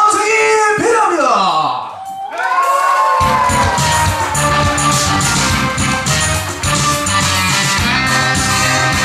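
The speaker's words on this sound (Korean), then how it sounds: "여러분들 그 박수와 함성이 필요합니다" Cheering and whooping from a crowd at an outdoor event in Geumsan, rising loudly after a short dip and staying dense under an amplified voice and music.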